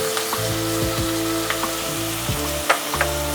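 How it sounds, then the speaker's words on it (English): Almond rava sizzles with vegetables and curry leaves in a pan for keto upma, a steady close frying hiss broken by a few scraping stirs of a spoon, with no talking. "Now we'll fry this and let the almond flour roast a little bit."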